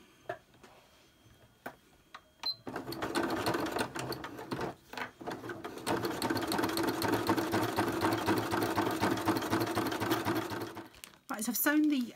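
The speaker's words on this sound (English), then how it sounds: "So I'm just sewing by holding the pieces together." A sewing machine stitches paper fabric pieces for a tote bag, running in a long continuous whir after a few short bursts, close and fairly loud, with brief pauses near the end.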